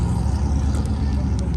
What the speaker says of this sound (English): More cars rolling in.